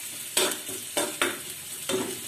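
Chopped onions fry in a pan for a savoury namkeen daliya, a close, steady sizzle broken by four or five sharp scraping stirs of a spoon at irregular intervals.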